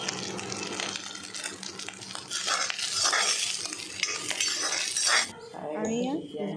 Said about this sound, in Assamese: এইফালে মই মাছ ভাজিছোঁ মাছ মানে একদম গুৰিকৈ ভাজিছোঁ